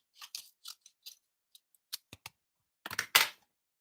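Scissors cut down a piece of cardstock in short crisp snips, close and fairly loud, scattered with pauses and ending in a quick cluster of heavier cuts.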